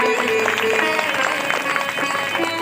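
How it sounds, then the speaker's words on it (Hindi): A crowd at a Shrimad Bhagwat Katha religious gathering claps steadily and densely for a few seconds, continuous applause filling the space with no break. "इनके जोरदार तालियां बजाई जाए"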